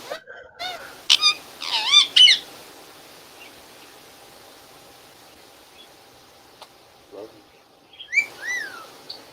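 Pet bird giving several sharp chirps and whistled calls in quick bursts, close by, with a quiet gap before another cluster of chirps at the end.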